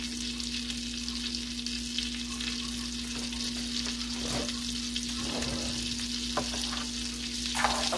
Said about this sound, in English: As long as you brown the pasta, you'll be good.